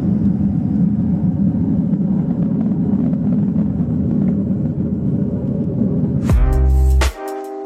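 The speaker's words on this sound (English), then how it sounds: "going to get a real nice view of Flight of 4 of F-16s taking off to the west" A flight of four F-16 fighter jets takes off to the west, heard as a heavy, sustained low engine roar. Near the end it cuts off abruptly and a different tonal sound replaces it.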